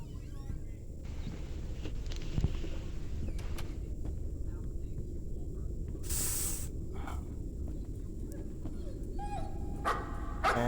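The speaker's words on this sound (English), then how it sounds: "that's a dog." A dog barks in the horror video game Layers of Fear, a few faint, distant barks standing out from a quiet, eerie hissing ambience.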